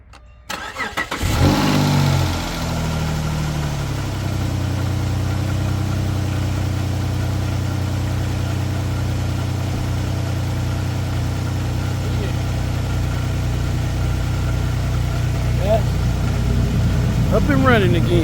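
A car engine cranks and catches right after new spark plugs and a reconnected ignition coil connector, then settles into a steady, close idle that runs on alone, with a brief rise in revs near the end.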